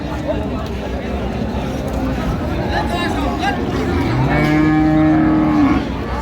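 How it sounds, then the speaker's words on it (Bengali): At Raniganj cattle market, a cow and her calf moo through a busy hubbub of bargaining voices; a long, deep, rising call stands out near the end above the crowd chatter. "গাভী বাছুর"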